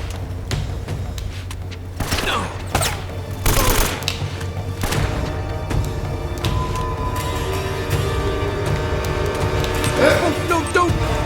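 Gunfire in the video game Uncharted: Drake's Fortune, with several sharp shots and thumps in a short burst near the start, then continuing game ambience, with voices speaking at points.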